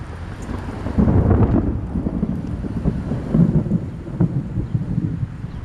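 Heavy rainstorm near a car dealership lot, with low rumbling thunder and steady rain plus some wind buffeting the microphone, no voices.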